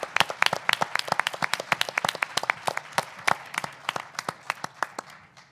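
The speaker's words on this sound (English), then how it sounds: "if you could all just join me in applauding Mike" A lecture audience at a Capital Center Lecture Series event applauds for the guest, a fairly small crowd whose individual claps ring out crisp and distinct in a lively, uneven rhythm that thins toward the end.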